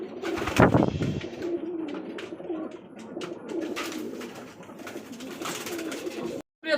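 Pigeons cooing at a pigeon farm in Ashulia, near Dhaka, with a loud burst of coos up close at the start followed by steady overlapping cooing, ending in a brief cut.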